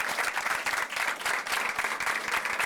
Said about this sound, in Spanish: Despedimos al licenciado Edwin Espinal con un fuerte aplauso